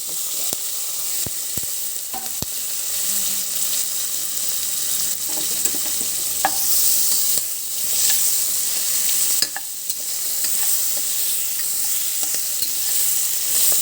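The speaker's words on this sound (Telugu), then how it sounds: "ఇప్పుడు కొంచెం పసుపు వేసి ఈ దోసకాయ" Sliced cucumber fries in a pan with turmeric, giving a steady loud sizzle and hiss broken by scraping stirs and a few sharp knocks of a spoon against the pan, with no talking.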